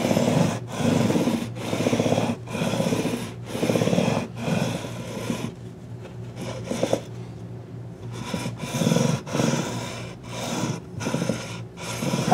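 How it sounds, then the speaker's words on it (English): A leveling beam rasps back and forth across the frets of a Made in Japan Fender Stratocaster, with roughly eight rhythmic, close-up scraping strokes and a short pause midway. "gonna take my leveling beam. I'm gonna run it across here a couple of times."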